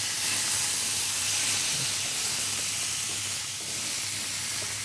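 Shrimp frying in a pan in a home cooking setting, a steady, even sizzle and hiss of hot oil running the whole time with a faint low hum beneath and no voices.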